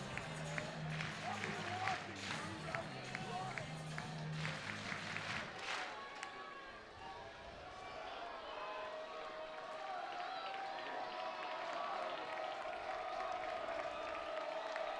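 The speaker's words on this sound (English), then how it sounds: "Listen to this crowd." A baseball crowd at Oregon, during an Oregon State at Oregon game, cheers and claps in a steady, broad roar, with a commentator talking over it.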